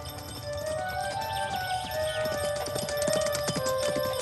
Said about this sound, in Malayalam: പെട്ടെന്ന് കുതിരയുടെ ശബ്ദം കേട്ട് തിരിഞ്ഞു നോക്കി.